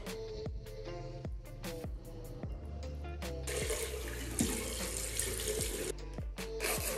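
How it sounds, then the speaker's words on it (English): Tap water runs steadily into a bathroom sink while hands are washed, with scattered clicks and knocks throughout and the water flow growing louder and hissier partway through. "I'm just going to wash my hands for the millionth time"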